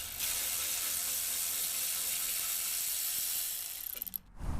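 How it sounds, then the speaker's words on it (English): A Milwaukee M12 cordless ratchet zips bolts out of a C4 Fabrication front bumper on a 5th-gen 4Runner, a steady continuous mechanical whir lasting several seconds before stopping abruptly, close and alone with no talk. "if you have something like a Milwaukee M12 ratchet, then you can quicken the removal by switching to the ratchet and zipping them out"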